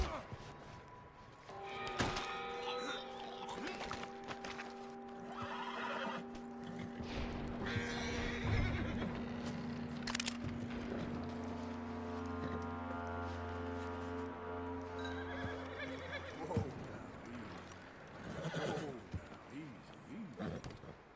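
A horse in the video game Red Dead Redemption whinnies and snorts amid background talking and game ambience, with hoof clops and a low sustained drone underneath.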